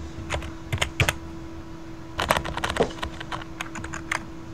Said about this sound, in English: I'm gonna go on mute so you don't hear my typing.